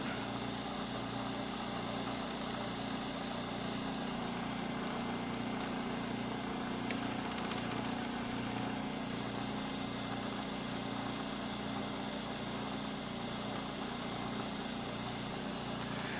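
A milling machine cutter cutting a slot, a steady mechanical hum with a regular low pulsing rhythm and constant broadband whir, continuous and moderately loud throughout.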